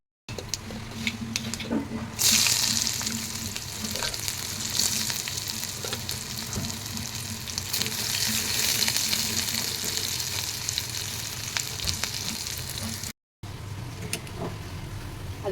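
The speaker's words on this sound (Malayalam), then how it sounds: "കടുക് പൊട്ടിച്ചും കൂടി ഇട്ട് കൊടുക്കുക അതിലേക്ക്" Mustard seed tempering poured into a bitter gourd theeyal, a loud sustained sizzle that bursts up when the hot oil hits and continues steadily, close by, with a brief gap near the end.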